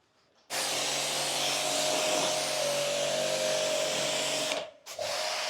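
An AGARO high pressure washer runs loud and steady as it sprays foam onto a car, a dense continuous hiss and motor drone that breaks off briefly near the end, then resumes.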